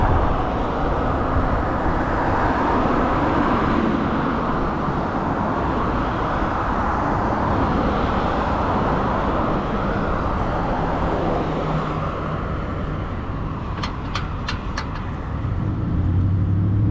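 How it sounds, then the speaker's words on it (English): Rush hour road traffic heard from a roadside trail, a dense, continuous roar of passing vehicles that stays loud throughout, with a few sharp clicks near the end and no talk. "So much traffic. Of course, it is rush hour"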